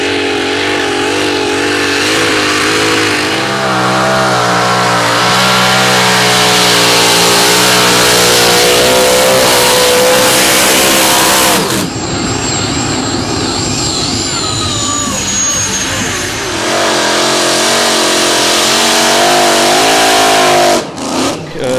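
A 2.5-tonne competition tractor-pulling machine powered by a radial aircraft engine revs hard, a loud, dense, continuous roar with rising and falling pitch, brief shifts in tone midway and a sudden cut near the end.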